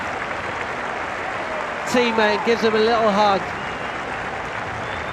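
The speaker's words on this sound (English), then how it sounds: "turns to take the applause from the crowd" Cricket crowd at Headingley applauding Rishabh Pant during an England versus India Test match, a steady wash of clapping from the stands under a commentator's voice.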